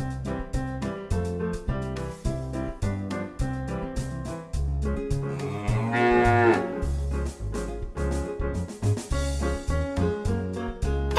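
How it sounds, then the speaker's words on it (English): A cow moos once from a toy farm animal puzzle, a short lowing call at mid-clip that rises over bouncy children's music with a steady beat. "A cow."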